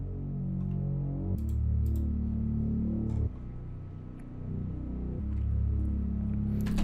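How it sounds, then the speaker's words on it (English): Growler Moog-style synth bass in a guitar trap beat plays the root note of each chord in long sustained tones, changing pitch every second or two, loud and upfront with no voices. "we have the synth bass, which sounds like this."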